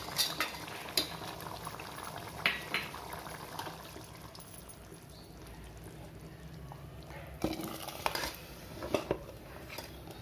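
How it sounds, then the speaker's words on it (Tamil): Freshly ground masala goes into a simmering pot of mutton curry, with soft bubbling, a few clinks of a spoon against the pot and scraping stirs, fairly quiet and close. "இந்த மசாலாவை குழம்புல நம்ம சேர்த்துடலாம்."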